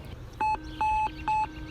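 A Minelab Equinox metal detector sweeps over a shallow target on a brick road, sounding three clear electronic tone beeps, each a higher note dropping to a lower one, over a faint hum of background noise.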